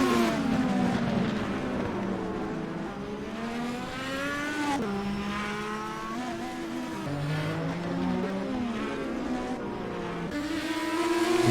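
IndyCar race cars battle side by side at the Grand Prix of Long Beach street circuit, several engines whining and shifting pitch up and down through the gears as they pass, loud and continuous throughout.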